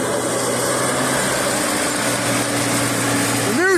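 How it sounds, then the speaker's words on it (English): A tractor engine runs steadily at a constant, fairly high-pitched drone while the tractor slides across ice, close and continuous, with a short tonal squeak near the end. "The new sport of tractor drifting."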